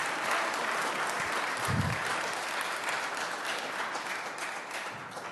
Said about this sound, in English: Y'all gonna act like you didn't hear me say don't clap anymore